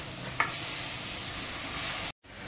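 Boiled potato goes into a hot pan of spiced filling and gets stirred, a soft continuous sizzle with one scraping knock early on, then a short silent break near the end.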